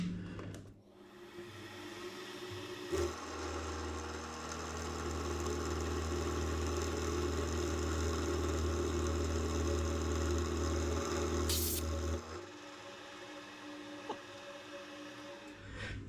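A milling machine with a freshly repaired spindle cuts steadily for several seconds, a sustained low hum and whine that starts and stops abruptly, heard alone at moderate distance.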